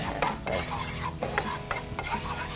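Garlic frying in olive oil and butter, close and crackling with a steady sizzle, broken by several soft scraping stirs of a utensil at uneven intervals.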